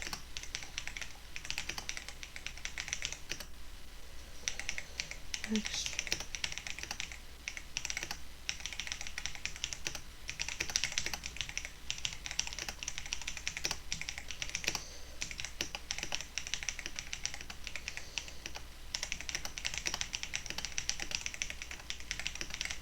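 Typing on a computer keyboard, with bursts of quick key clicks and short pauses between them, close and moderately quiet, continuing steadily with no talking.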